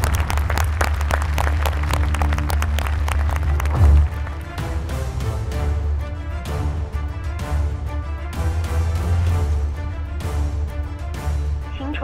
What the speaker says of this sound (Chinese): 我们要不要给这4个勇敢的人点掌声啊？